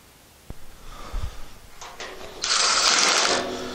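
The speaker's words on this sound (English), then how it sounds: "I've got a little mini Ryobi impact gun, 3/8 bit for it" Short bursts from a Ryobi mini impact driver with a 3/8 bit driving bolts during assembly of a Napoleon Prestige 500 BBQ grill, a few thumps followed by a louder sustained whirring run, close by.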